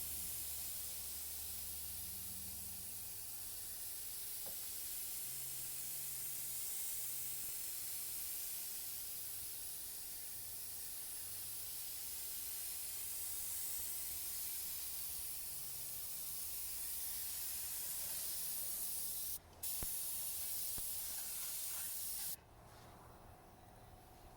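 Fine spray mist of dye product dusted onto sport cloth in very light coats, a steady close hiss running continuously, with a brief pause and a quieter tail near the end; no talking.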